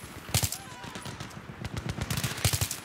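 Rapid automatic gunfire from a Battlefield 3 first-person shooter, bursts of shots crackling in irregular clusters over game ambience at moderate level, with no one talking over it.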